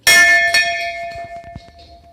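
A metal temple bell at a Shiva temple with a Nandi statue is struck, ringing out loud and bright, then struck again for a second clang, its long ringing tone slowly fading away.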